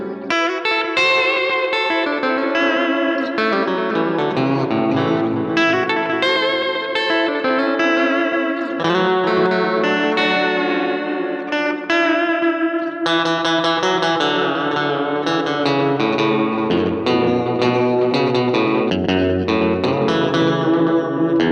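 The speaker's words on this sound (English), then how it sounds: "you can adjust the overall repeats here from very kind of dry like that to create these kind of reverby sounds" Electric guitar melody played through a Strymon echo unit, with the repeats set to blur into a reverb-like wash; sustained, singing notes ring continuously with a lush, spacious tail.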